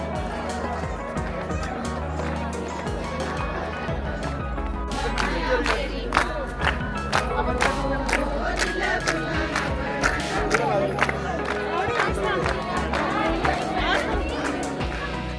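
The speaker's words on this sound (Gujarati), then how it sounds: "બહુ ભીડ છે" A large crowd mills at the Hidimba Devi temple in Manali: a steady wash of overlapping voices and chatter, growing busier and more animated about halfway through with sharp shouts and knocks standing out.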